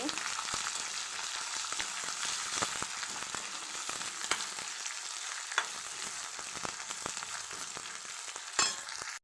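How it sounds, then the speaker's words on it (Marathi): Onion and green chili sauté in a pan for batata poha, a steady, fairly quiet frying hiss with scattered light clicks and one brief metallic clink near the end. "कांदा आणि हिरवी मिरची पूर्ण मी परतून घेते"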